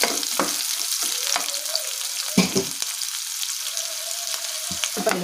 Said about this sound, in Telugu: తర్వాత ఉల్లిపాయ ముక్కలు వేసుకొని ఫ్రై చేసుకోవాలి.